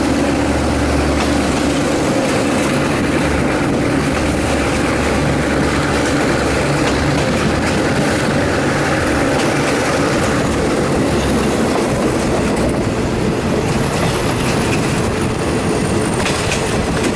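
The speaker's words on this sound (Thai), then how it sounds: "รถไฟก็กำลังแล่นออกจากสถานีรถไฟสามเส้นมุ่งหน้าสู่สถานีรถไฟกรุงเทพมหานครแล้วนะครับ" A train pulls out of Sam Sen railway station in Thailand heading toward Bangkok, its steady rumble and clickety-clack of wheels on rail running loud and continuous, with a faint wheel squeal late on.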